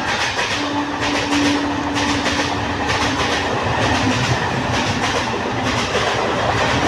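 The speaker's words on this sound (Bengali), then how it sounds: "ওই দেখো ট্রেন চলে যাচ্ছে।" A train rolls past on the rails nearby during Diwali, a loud, continuous rumble with rhythmic clickety-clack of wheels over track joints and a faint, sustained tonal note early on, with no talk.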